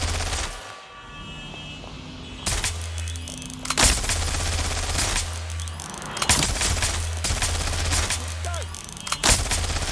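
Repeated bursts of video game weapon fire ring out in loud volleys against a steady low hum, with brief pauses between the shots.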